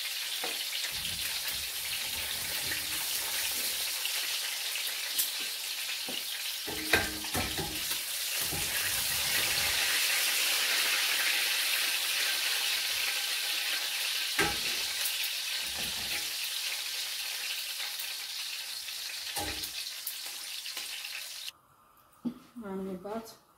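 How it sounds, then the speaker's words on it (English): Steady crackling sizzle of fish frying in hot oil runs nearly throughout, with occasional clinks and scrapes, fading abruptly near the end. "I want to just finish frying my fish"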